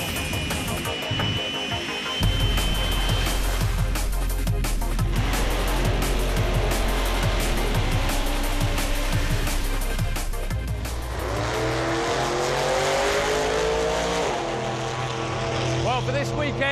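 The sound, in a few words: race cars driving back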